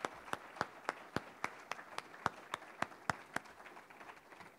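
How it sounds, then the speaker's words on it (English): A single person clapping slowly and sharply in a quiet hall after a talk on Dr. King's message, about a dozen distinct claps at an uneven pace, faint and close. "So round of applause, please."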